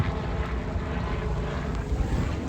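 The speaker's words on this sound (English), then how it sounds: "That's a helicopter." Helicopter flying overhead above a stone-clearing site, a steady rotor and engine drone with a dense low-frequency beat, fairly loud and continuous throughout with no talking.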